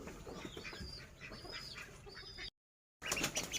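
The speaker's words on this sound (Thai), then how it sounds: "ไก่น้อย4-5 ตัวเป็ดน้อย4 ตัว" Chicks and ducklings, a small brood of about four or five chicks with four ducklings in a garden, chirp and peep continuously at close range, broken by a brief silent gap before the busy cheeping resumes.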